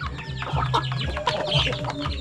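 Several large hens cluck and chatter close by, overlapping soft calls over a low steady background hum.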